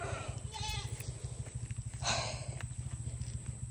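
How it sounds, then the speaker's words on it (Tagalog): Goats bleat intermittently over a low rumbling hum, with a voice or two faintly in the background, at Mt Calvary in Puerto Princesa, Palawan. "Dami kambing."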